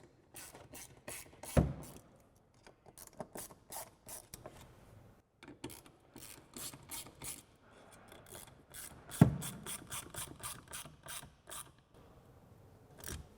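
Ratchet on a 9/64 Allen socket tightening coil-over bolts on a RAM 1500 lift kit: a close run of quick, dry clicking strokes in bursts with short pauses, plus a couple of sharper metallic knocks.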